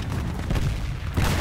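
A grenade blast in the World War II shooter PR:WW2, a dense, low rumbling boom that fills the short moment and swells again near the end, with no talking.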